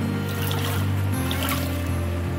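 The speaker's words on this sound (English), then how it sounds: "We dip it in like that." Sluice mat being dipped into stream water in Gold Rush: The Game, a soft steady trickle and slosh of water over a low droning game hum, continuous and fairly loud with no talking.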